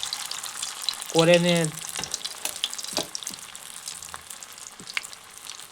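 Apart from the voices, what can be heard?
bread pakoras deep-frying in hot oil in a wok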